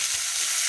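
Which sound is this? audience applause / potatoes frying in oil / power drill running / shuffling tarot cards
potatoes frying in oil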